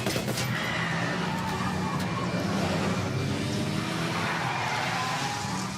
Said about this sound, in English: Damn, he's trying to ram the car.